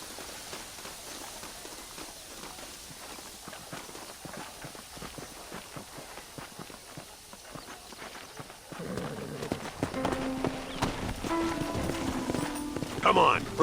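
Horse hooves clip-clop at a brisk, steady pace in the video game Red Dead Redemption, with a burst of louder activity and voices near the end.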